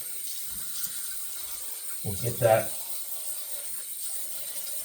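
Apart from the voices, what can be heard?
hot water running from a tap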